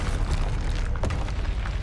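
A Bombarda spell explodes in Hogwarts Legacy, a heavy rumbling boom with crackling debris, loud and close, filling the moment without any talk.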